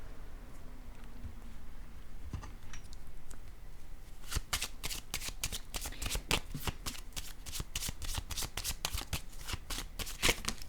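Tarot cards are shuffled and drawn for a reading, starting as faint soft rustling and then turning into a long run of quick, crisp riffle snaps and slaps close by, with no voices.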